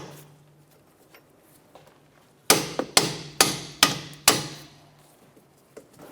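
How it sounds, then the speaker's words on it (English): A hammer taps the strut-to-knuckle bolts on a 2006-2013 Chevrolet Impala, five sharp metallic strikes in quick succession, fairly close, followed by a faint final tap in an otherwise quiet garage. "I'm just going to go ahead and tap these bolts."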